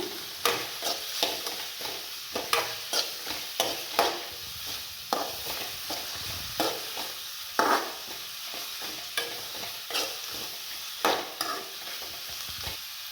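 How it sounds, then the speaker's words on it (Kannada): Chicken pieces for a pepper dry dish fried and stirred until brown, a low sizzle punctuated by regular sharp scrapes and knocks of a spatula against the pan. "ನೋಡಿ ಕ್ಲೀನಾಗಿ ಬ್ರೌನ್ ಕಲರ್ ಬರೋ ಅಷ್ಟು ಫ್ರೈ ಮಾಡ್ಕೊಬೇಕು."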